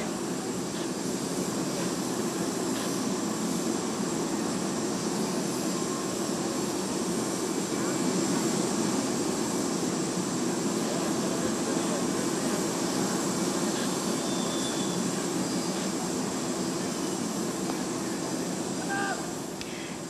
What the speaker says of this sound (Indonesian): Presiden Turki Recep Tayyip Erdogan telah memasuki pesawat dan siap berangkat meninggalkan Indonesia.